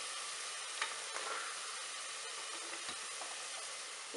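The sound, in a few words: frying ground masala with vegetables in a pan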